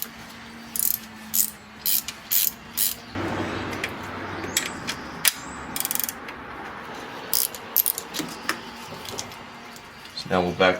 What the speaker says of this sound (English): I'm going to use a ratcheting wrench here.